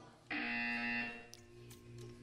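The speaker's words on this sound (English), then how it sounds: "When you hear the buzzer, stare at the arc." A steady electronic buzzer tone in the video game Portal 2 sounds abruptly and holds for under a second before fading, moderately loud and alone with faint background hum.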